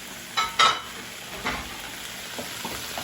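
Tomatoes sizzle and are stirred in a pan for a bottle gourd and shrimp dish, a few short scraping stirs early on over a soft, steady frying hiss.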